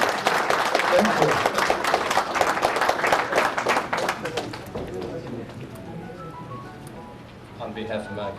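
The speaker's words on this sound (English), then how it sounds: "show your appreciation to this lady by the name of Chinggis Khan with a big applause" Audience applause fills a ceremony hall, dense steady clapping from many people that fades toward the end while a voice speaks faintly underneath.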